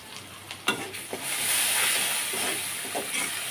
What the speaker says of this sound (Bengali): এবার মশলাটা কিছু সময় একটু কষিয়ে নিচ্ছি।